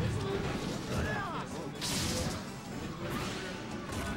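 Up smash attacks landing in a Super Smash Bros match, a tournament set between R.O.B and Ike, come as repeated whooshing swings and sharp hit cracks over constant game audio and crowd noise, with commentators talking throughout.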